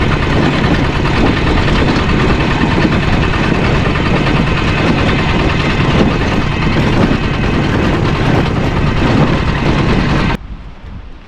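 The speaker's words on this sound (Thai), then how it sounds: "มื้อนี้มาลองรถไถใหม่สิพาพี่น้อง" A new tractor engine runs at a steady idle close by, a loud continuous low rumble with vibration and some wind buffeting on the microphone, cutting off abruptly near the end; no one speaks.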